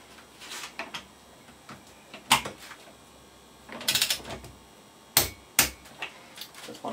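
A torque ratchet or wrench works on the clutch nut of a Vespa PX 150 engine, tightening it to 40 Nm: scattered close clicks and metallic clacks in irregular bursts, with a quiet background and no speech.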